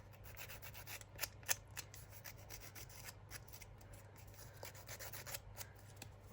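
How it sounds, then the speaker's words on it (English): Small scissors scrape and rub along paper edges for a grungy junk-journal craft, giving soft, close, faint scratchy strokes in an irregular rhythm with a few sharper clicks, no talk. "let me get my little scissors"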